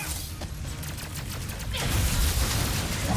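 Enemy gunfire in Ratchet & Clank: Rift Apart, a rapid stream of sharp shots that swells into a dense, loud barrage of blasts and impacts in the second half.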